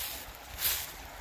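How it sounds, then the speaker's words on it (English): Small rapids on the Plover River gurgle and wash in a steady broadband rush that swells briefly at mid-point, heard alone without talk. "Got a little bit of rapids going here. Not much, but enough to make some gurgles and rapid sounds."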